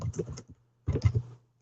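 Close computer keyboard typing in two quick bursts of keystrokes separated by a brief pause, clear and alone without talk.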